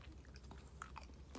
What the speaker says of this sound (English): Now you can stop chewing in my ear.